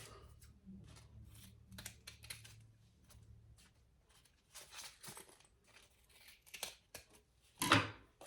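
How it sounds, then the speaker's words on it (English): Scissors snip off excess zipper while sewing a sling crossbody bag, with quiet scattered handling clicks and one loud, close cut near the end. "let's cut off our excess zipper."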